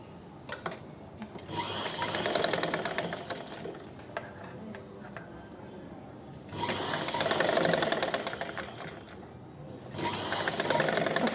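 Sewing machine stitching a blouse, running in two or three bursts of rapid, steady whirring stitches separated by brief pauses, close and moderately loud with no talk.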